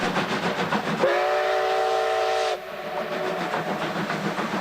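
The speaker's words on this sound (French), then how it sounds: "J'ai regardé la locomotive à vapeur d'ici." A steam locomotive sounds its whistle, a loud chord-like blast lasting about a second and a half over the chuffing and rumble of the train, which carries on after the whistle stops.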